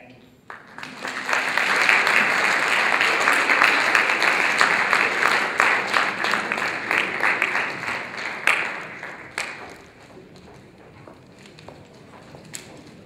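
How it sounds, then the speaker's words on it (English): Audience at a 2011 student government debate applauding the candidates, clapping that swells quickly, holds strong for several seconds, then thins out to scattered claps with some voices underneath. "one more round of applause for all the candidates"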